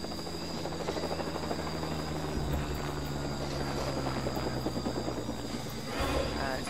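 A steady helicopter rotor drone in the video game LEGO Jurassic World hums continuously at moderate volume, with a faint buzzing edge and no clear breaks.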